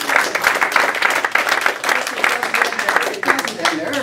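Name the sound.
audience applause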